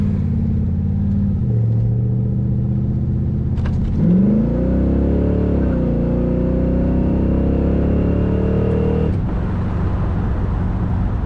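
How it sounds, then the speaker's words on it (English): A 1968 Chevrolet Corvette convertible with an automatic transmission revs and accelerates. The engine keeps up a loud, close, steady rumble, climbs in pitch after a few seconds, holds there under strain, then eases off near the end. "Acceleration is very good."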